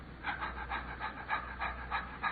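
A person breathes in and out with quick, even, audible breaths, about three per second, close and alone against a faint background hum.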